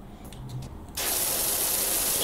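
A pressure washer in the video game Power Wash Simulator kicks in abruptly after a quieter moment, then sprays as a steady, loud, broad hiss of water that continues without a break.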